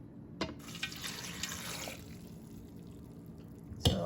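Warm water poured from a cup onto coconut chips in a Thermomix bowl, a steady close splashing trickle lasting several seconds, with a short clunk near the end.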